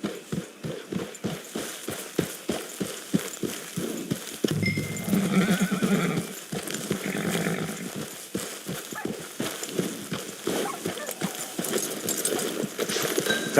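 A horse whinnies loudly amid steady clip-clopping hooves, with an engine-like rumble in the background, in the video game Red Dead Redemption.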